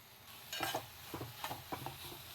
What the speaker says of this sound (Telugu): ఈ పచ్చిమిర్చి మొత్తం బాగా ఫ్రై అవ్వాలి.